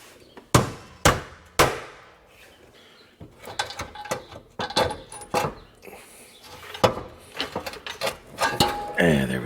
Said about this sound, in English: I need a little hammer action after that thing